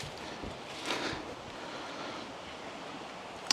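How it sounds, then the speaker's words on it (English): A river in the Welsh mountains rushes in a steady, broad wash of flowing water, with a gusty swell early on and a brief knock near the end, with no talking. "That river sounds tremendous today."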